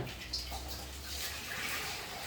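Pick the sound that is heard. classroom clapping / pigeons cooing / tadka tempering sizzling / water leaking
water leaking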